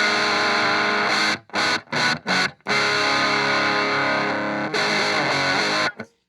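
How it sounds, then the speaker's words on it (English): Electric guitar through a sputtery, overdriven distortion pedal with a gain control, playing loud, saturated sustained chords broken by a few short choppy stabs, then a long ringing hold that cuts off abruptly. "It's like a super sputtery overdriven tone."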